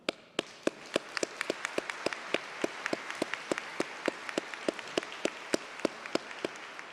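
Sparse audience applause at a nursing and medical laboratory technology pinning ceremony, a few distinct claps from a small group spaced irregularly across the clip over a soft room background.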